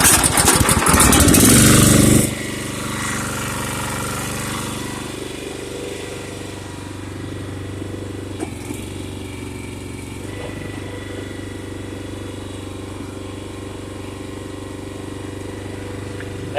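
Small engine of a Harbor Freight towable trencher backhoe on a farm, a loud burst at first then a steady continuous idle running throughout, close by with no talk over it.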